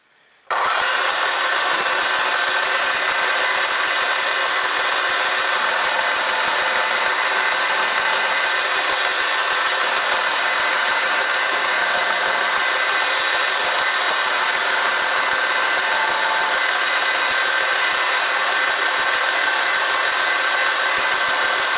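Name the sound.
power tool cutting and blending metal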